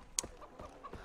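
Chickens in the Far Cry 3 video game cluck in a few short, sparse bursts, one sharper squawk near the start, over a quiet in-game background.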